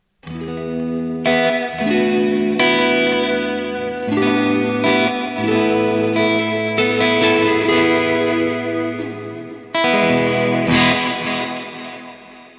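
Electric guitar run through a NUX Tape Echo pedal, played up the higher end of the neck for sparkly tones, with sustained chords and notes layered by galloping repeats, loud and continuous with no voices.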